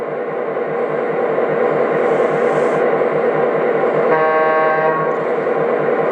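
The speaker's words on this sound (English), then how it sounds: "That's a pretty good sounding horn." A LionChief Plus model train sounds a long, steady electronic horn over the constant rumble of its running motor, close and fairly loud, with a brief higher toot near the end.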